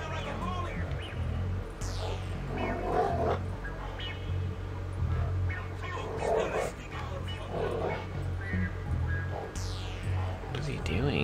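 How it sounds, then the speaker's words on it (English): A dog in the GTA V video game makes short barks and yips amid game sound effects and whooshes, with someone talking over much of it. "Dog has a mind of its own."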